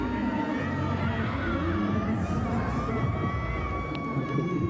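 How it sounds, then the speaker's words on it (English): A fan squad down on the docks cheers for the Colombian diver Miguel at a Boston Seaport cliff diving event, a steady wash of crowd noise and shouting with a faint whistle late on. "Bit of a fan squad down there cheering."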